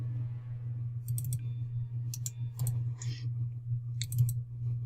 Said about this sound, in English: Sorry if you can hear the clicking of my mouse.